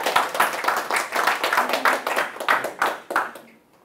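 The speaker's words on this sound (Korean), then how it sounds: "박수를 치려면 다 같이 쳐주시던가." Audience at a history lecture bursting into scattered clapping: brisk, uneven claps for over three seconds, close and fairly loud, then fading into near silence.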